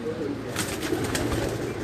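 Pigeons at a pigeon-flying tournament coo close by in soft, throaty, repeated calls over a steady outdoor background.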